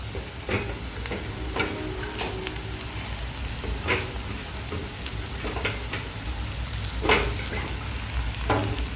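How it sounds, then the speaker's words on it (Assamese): Onion, carrots and French beans frying for veg pulao, a steady soft sizzle with scattered crackles and occasional stirring scrapes, fairly quiet and continuous throughout. "আমি এইখিনি অলপ ধুনীয়াকৈ ফ্ৰাই কৰিম"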